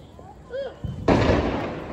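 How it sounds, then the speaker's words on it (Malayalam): A small Diwali firecracker bomb bursts with a single sharp, loud blast that rolls off into a rumbling decay, after a brief voice and faint noises close by. "നമ്മുടെ ചെറിയ നമ്മുടെ ബോംബ്, ഈ ഗുണ്ട്. ഇത് ഭയങ്കര സൗണ്ട് ഒക്കെ എന്നാണ് പറഞ്ഞ്."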